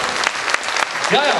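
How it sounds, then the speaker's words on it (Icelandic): Audience applause at a 2007 youth horse event: dense, steady clapping from a crowd fills the room, and a single voice speaks briefly near the end. "Þú skulum klappa fyrir tilraunadýrunum þegar við vorum að fara á hér."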